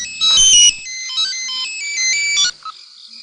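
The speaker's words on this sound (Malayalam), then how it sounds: "ഫോൺ വിളിക്കുന്നു." A mobile phone ringtone plays a bright electronic melody, loud and close, for about two and a half seconds before cutting off, with no one speaking.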